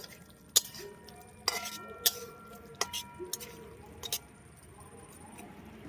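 Metal utensil clinks and scrapes against a pan as mustard-oil fish curry made with river Madhubhola fish and coriander leaves is stirred, several sharp knocks spaced irregularly over a soft background.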